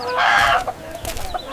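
A rooster for sale at a market gives a loud, close, drawn-out squawking cluck, followed by a few softer, shorter clucks and rustling.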